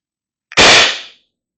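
A single sharp crack from a Pistelle X-68 air gun, near and loud, bursting on abruptly and fading out within about half a second.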